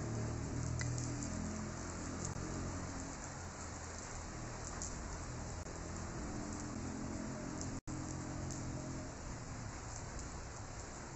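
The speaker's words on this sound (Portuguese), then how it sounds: "vai estar caindo uma chuva louca de bonita lá fora" Heavy rain pours steadily outside, a dense continuous hiss of drops on surfaces with no break, close and loud throughout.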